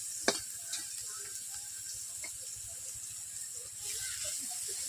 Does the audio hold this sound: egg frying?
yes